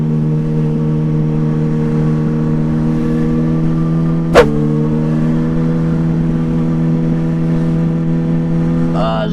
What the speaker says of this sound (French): je reste en première à 30 km/h histoire que la moto elle gueule